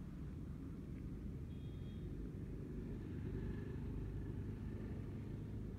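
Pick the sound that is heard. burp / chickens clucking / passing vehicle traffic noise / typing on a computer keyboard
passing vehicle traffic noise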